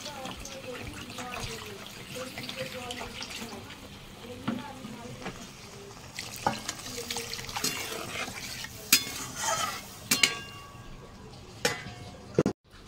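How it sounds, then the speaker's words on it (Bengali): Water is poured into a pan of simmering lentil fritter curry with turmeric, a soft sizzling hiss followed by splashing and clinks of utensils near the end, with a voice talking over it. "আর একবারেই থালার ভেতরে কিছুটা জল নিয়ে ঢেলে দেবো।"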